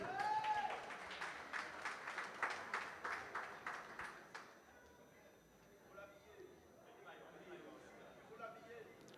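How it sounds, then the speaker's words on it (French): An audience claps for a performer at an awards ceremony, a fairly steady round of applause lasting a few seconds before it fades and gives way to a quiet room with a voice speaking. "je vous demande d'applaudir Martial Delta en 4e B de l'ASU"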